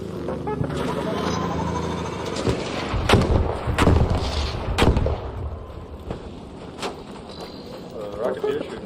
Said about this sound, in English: Rocketeer shooting over there.